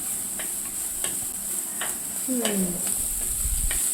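Ingredients sautéing in a pan for a Palakkad-style dish: a constant sizzle with repeated light scraping taps of a spatula, close up, and a brief faint sliding tone partway through.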